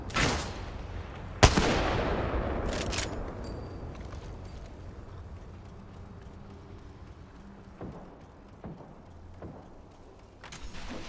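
Gunfire rings out in Apex Legends, with a few sharp, loud shots followed by decaying echoes, then quieter scattered impacts and a final burst near the end.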